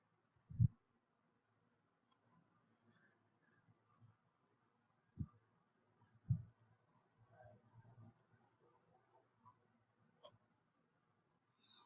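A computer mouse clicks a few times during an online course walkthrough, three distinct sharp clicks spaced apart plus faint softer taps in an otherwise quiet room.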